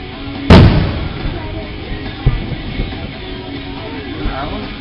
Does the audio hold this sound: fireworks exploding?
yes